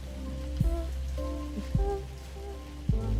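Rain falling steadily outside a church, a soft constant patter with a few louder drips or knocks at irregular intervals.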